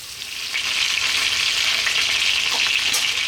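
Chicken pieces fry in a pan over medium heat, a steady, close hissing sizzle with small pops and crackles throughout, no voices.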